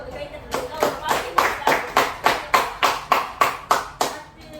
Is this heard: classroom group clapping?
yes